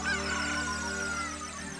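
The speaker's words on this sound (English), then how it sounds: "That's the Rooster Crows." Rooster crowing in the video game Zelda: Ocarina of Time, a short, loud, tonal honking call lasting under two seconds over steady game music.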